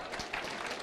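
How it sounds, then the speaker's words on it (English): An audience at an investor education conference claps for participants, a brief burst of loose, overlapping applause filling the room. "Let us clap for them"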